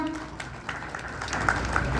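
A gathered crowd at a Marathi awards and felicitation ceremony applauds, a fairly quiet, scattered round of clapping that builds slightly toward the end, heard without speech over it.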